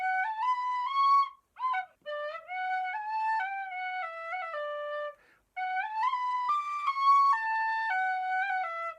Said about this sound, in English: am I just about to play the shower theme on a smaller whistle? Yes, I am